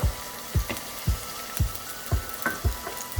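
Onion, curry leaves, ginger and green chilli sautéing in a pan for a Kerala-style fish and ivy gourd dish: a steady sizzle broken by regular stirring scrapes about every half second, close up and without talking.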